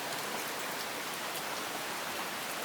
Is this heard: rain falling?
yes